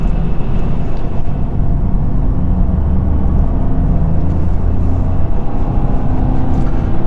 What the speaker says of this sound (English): if I lift off, rather than having to brake then, that's just going to give us enough engine braking